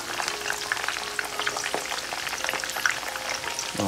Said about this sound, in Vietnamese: bây giờ tới một cái giai đoạn là mình sẽ chiên cái thịt ba chỉ nha các bạn